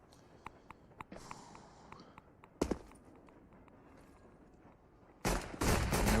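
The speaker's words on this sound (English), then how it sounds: "Chris J with that P2000, unable to find the initial shot." P2000 pistol gunfire from a Counter-Strike: Global Offensive pro match: a few light taps, then a sharp shot, and later a loud run of rapid gunfire near the end.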